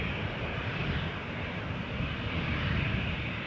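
A Boeing 737-700 jet at Toronto Pearson Airport gives a steady, close, dense engine roar with heavy low rumble for a few seconds, with no voices over it.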